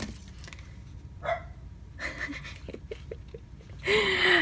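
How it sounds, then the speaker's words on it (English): A dog gives a few short barks and some panting sounds, ending in a louder bark, with quiet gaps in between. "She's going to start getting very aggressive with her barking."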